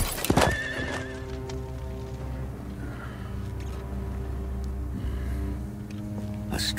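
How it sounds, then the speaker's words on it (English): A horse neighs and its hooves clip-clop in the intro of the video game Total War: Warhammer, the whinny loud and close over a steady musical drone. "Oh, horse."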